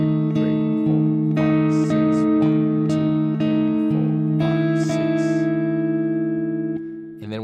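A fingerpicked guitar pattern, steady arpeggiated notes over sustained bass in a lilting six-count rhythm, close and clear, with soft counting heard behind the playing.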